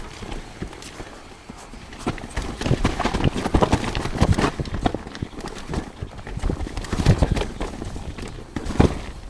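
A mountain bike's wheel rim clanks and knocks against slimy rocks on a rough trail, making irregular loud impacts over a rumbling ride.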